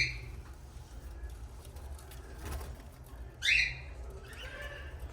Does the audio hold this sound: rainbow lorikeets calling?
yes